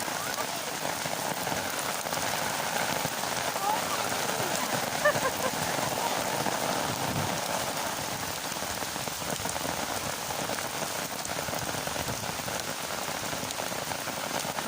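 Heavy rain drums continuously on a surface, a constant close wash of drops that stays level from start to finish.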